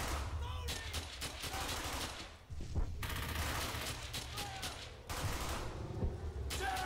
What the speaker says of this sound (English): I want heavy fire on that MG!